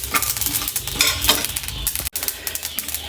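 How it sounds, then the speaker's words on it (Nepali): Cumin, coriander and chilli frying in a pan for homemade achar give a steady close sizzle and crackle with scraping stir strokes, briefly cut off near the end, and no one speaks. "त्यसमा हामीले रातो रातो भुने गरेर एकछिन भुट्ने"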